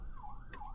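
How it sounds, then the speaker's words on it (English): Emergency vehicle siren, apparently an ambulance, approaching from the left on a road, heard from inside a Tesla driving on FSD 12.4.1 with semi trucks around; a wailing tone sweeps up and down loudly over steady traffic rumble. "or ambulance, I should say, coming from the left."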